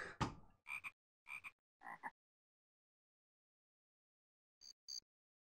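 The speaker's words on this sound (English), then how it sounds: "did you just drag a frog?" A cartoonish frog croaks from the Zoombinis video game, a quick run of four loud croaks followed by silence and then two shorter, higher croaks.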